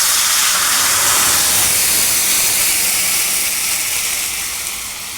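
Boiled pepper rasam hits a hot tempering in the pan, producing a loud, continuous sizzling hiss close up that slowly tapers off toward the end.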